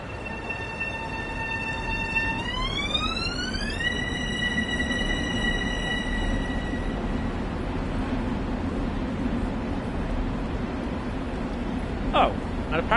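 Train departing in the simulator game Train Sim World 2020: a rising electric traction whine climbs in pitch and then holds steady over a constant rumble of rolling stock, with a brief squeal near the end.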